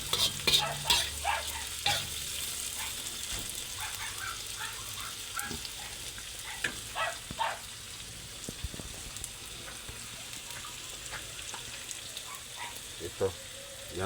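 Bombay onion leaves stir-fried in a pan, with a low steady sizzle broken by repeated scraping stirs and clatters of the utensil, close and fairly quiet.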